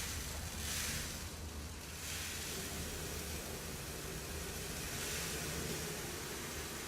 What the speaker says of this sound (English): So I'll just put the substrate in now